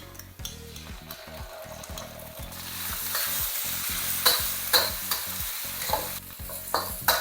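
Dried shrimp and chili paste frying for peanut sauce, a sizzle that grows louder over time with frequent rhythmic scraping and clacking of a utensil stirring against the pan.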